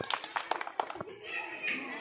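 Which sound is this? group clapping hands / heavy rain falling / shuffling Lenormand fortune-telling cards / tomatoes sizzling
group clapping hands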